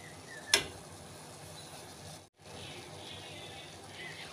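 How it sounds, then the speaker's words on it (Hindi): A pot of water boiling on the stove for spiced tulsi tea gives a steady, soft bubbling hiss throughout, with one brief click near the start and a short dropout midway. "पानी कुछ इस तरह उबल रहा है।"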